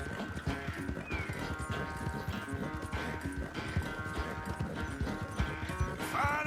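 Horse hooves clip-clop steadily at a running pace in Red Dead Redemption 2, near and prominent, with a brief whinny and light background game music.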